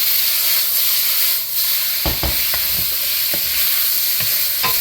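Loud, steady sizzling hiss of beef stir-frying in a hot pan for fried rice, with several sharp scrapes and clacks of a utensil stirring the meat partway through.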